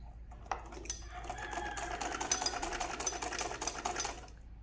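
Up close, a sewing machine runs steadily for about three seconds while stitching a sleeve, its rapid needle chatter continuous and even.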